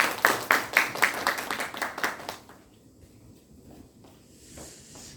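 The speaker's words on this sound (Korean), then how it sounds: "박수 한번 주십시오" Short burst of audience applause at a lifelong-education civic lecture, a dozen or so sharp claps in the first half that fade out, leaving a quiet room with faint shuffling.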